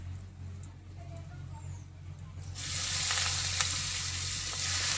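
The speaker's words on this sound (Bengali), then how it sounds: "চিংড়ি মাছ খুব বেশি ভাজবো না, হালকা করে।" Shrimp hit a hot pan and sizzle loudly, the frying jumping up midway out of a quieter hum and then crackling on steadily close by.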